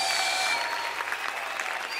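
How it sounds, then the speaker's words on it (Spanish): A worship congregation applauds during a Spanish-language praise song, steady dense clapping filling the whole stretch at moderate level with no break. "Aplaudimos a ti, Jesús."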